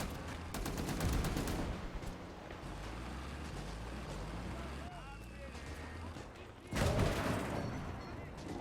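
A tank cannon firing an armor-piercing shell at a StuG in a WWII Battle of the Bulge video game: heavy booming blasts near the start and again later, over rumbling battle noise and ongoing talk.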